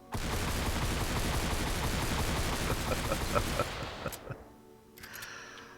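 Rapid burst of fire from the Room Sweeper shotgun in Fortnite Save the World, a dense continuous stream of shots emptying the magazine, loud and close, cutting off into a few reload clicks.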